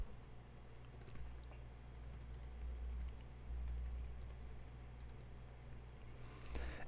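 Computer keyboard typing while code is entered, a steady run of light clicky keystrokes over a low, constant background hum, fairly close and uninterrupted.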